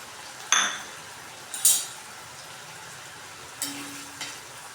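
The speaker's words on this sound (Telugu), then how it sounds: "నూనె వేడైన తర్వాత ఫస్ట్ ఉల్లిపాయలు వేస్తున్నాను" Sliced onions drop into hot oil in a pan for egg chaat, with a few scattered clinks of a utensil against the pan over a soft, low sizzle.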